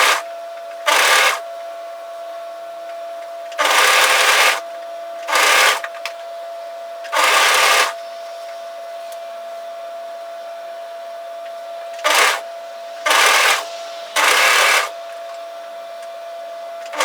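A sewing machine stitching the side seams and underarm of a knitted yoke sweater runs in eight separate bursts of about half a second to a second each, loud and close, with quiet pauses between them and no talk.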